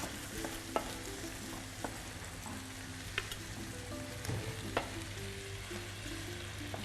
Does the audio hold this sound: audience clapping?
no